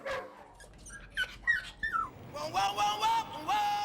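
A dog in a rescue kennel whimpers and whines in a run of high, wavering cries, starting with short squeaks and rising into longer pitched wails, close and fairly loud.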